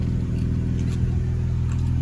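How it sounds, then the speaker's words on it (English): A 2018 Jeep Wrangler Unlimited Sahara's exhaust rumbles at a steady, close idle, a deep, even engine drone holding constant with no talk over it. "I think you should really hear this exhaust."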